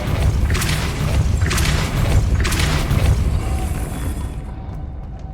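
A Depulso spell is cast repeatedly in Hogwarts Legacy, three booming, whooshing blasts in a regular rhythm that fade toward the end.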